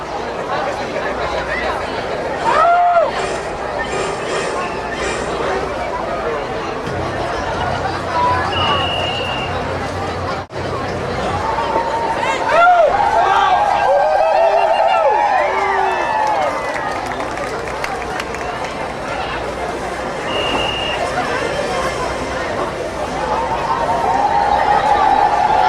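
Crowd noise from the stands at a small-town frontier days rodeo in Willits, a continuous broad hubbub of chatter and cheering that swells at moments, heard with a loud, echoing announcer talking over it.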